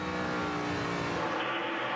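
NASCAR stock cars roaring at full throttle during the 2007 Ford 400, a dense, continuous engine drone held loud and steady throughout with no talk.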